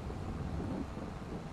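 Rain and thunder in the Farming Simulator 22 game make a continuous, fairly loud low rumble and rushing wash, with no voices over it.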